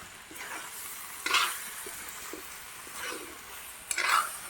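Chicken curry stirred while frying in a pan in an Assamese home kitchen, giving soft sizzling with a few scraping strokes of a spoon against the pan, close and fairly quiet, with no talk.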